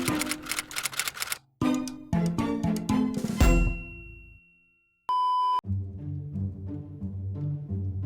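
A rapid string of phone text-message notification tones, chimes and clicks piles up in quick succession, then one sustained electronic beep sounds alone before a busier musical tone pattern resumes.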